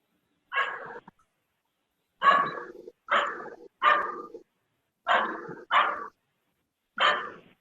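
A dog barks indoors during a park board meeting, seven loud, sharp barks in uneven bursts with silent gaps between them and no talk.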